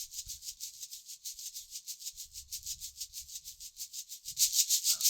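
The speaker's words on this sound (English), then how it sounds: "And here we have the shakers." Shakers rattle in a quick, steady rhythm, a bright rustling pulse that repeats evenly and grows a little louder near the end.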